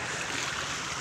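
Rainwater rushes steadily along a flooded road during continuing rain, a broad, continuous near wash of flowing water with no break across the moment.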